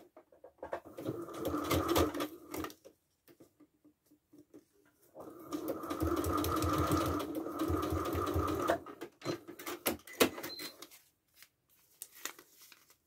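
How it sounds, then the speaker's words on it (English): Sewing machine at a longer stitch length joining fabric pieces, two bursts of rapid, whirring stitching separated by a pause, with small clicks and handling noises of cloth in between, fairly close. "I'll boost the stitch length now and sew these together"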